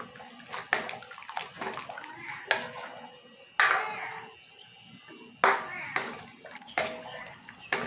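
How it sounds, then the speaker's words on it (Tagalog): Squash simmering in coconut milk in a pot being stirred, giving repeated wet sloshing and scraping strokes in a steady rhythm, close and moderately loud. "ituloy lang natin ang paghalo"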